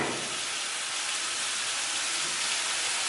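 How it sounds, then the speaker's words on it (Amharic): Macaroni boiling in a pot, a steady broad hiss and bubbling rush that stays even and fairly loud throughout, with no voices. "መኮረኒ እየበሰለ ነው። ይሄ ቆንጆ ድምፅ እያሰማ ነው በደንብ"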